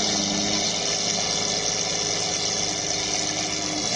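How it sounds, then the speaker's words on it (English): A Lamborghini Aventador engine roars at a hill climb event, a dense, loud, continuous mechanical drone held steady for several seconds with no voices. "Let's see what the Aventador can do now."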